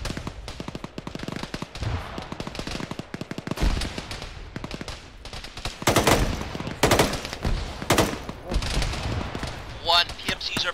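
Rapid bursts of automatic gunfire and single shots rattle through a squad-based military battle in the game Arma, loud and dense, with spoken voices over the shooting.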